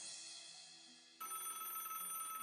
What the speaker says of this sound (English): Oh, excuse me, my phone's ringing.